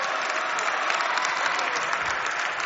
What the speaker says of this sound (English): It's lovely to hear all the people just giving them a nice round of applause